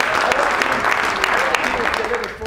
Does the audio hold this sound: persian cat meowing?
no